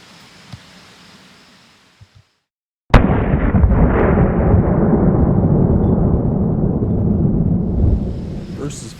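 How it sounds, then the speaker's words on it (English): A DoubleStar Midnight Dragon rifle fires Fiocchi ammunition at an outdoor range. After a few faint ticks, one sharp, very loud report breaks in and rolls into a sustained roaring rumble that slowly fades. "First is 5 shots of Fiocchi."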